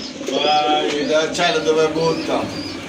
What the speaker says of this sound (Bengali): এই যে দেখেন ম্যাকপাই কবুতর